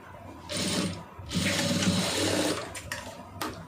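Sewing machine stitching the armhole seam of a blouse, running in two main bursts of steady mechanical whirring with brief pauses and a few short clicks toward the end.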